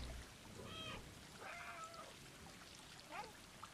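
A cat in the video game Stray meows several times, short rising and falling cries spaced across a few seconds over a soft background hiss.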